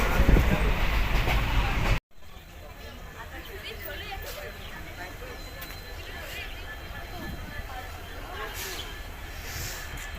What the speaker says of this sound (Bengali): বসে বসে যাচ্ছি, দূরপাল্লা ট্রেনে বসে গেছি।